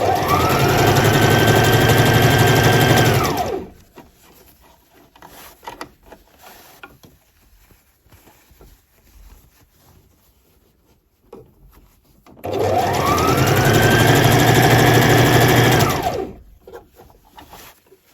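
A sewing machine stitches scrunchie fabric in two loud, steady whirring runs of a few seconds each, separated by a quiet gap with faint handling sounds.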